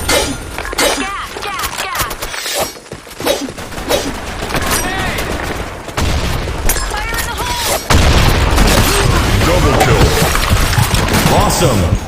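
Video game battle with a grenade blast and rapid gunfire, a continuous dense wall of booms, shots and crashes that grows heavier toward the end, with game voice lines heard over the combat.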